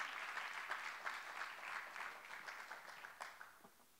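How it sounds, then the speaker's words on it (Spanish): A church congregation claps in a dense, fairly distant round of applause that gradually thins and fades toward the end. "Dale un aplauso al Dios Todopoderoso."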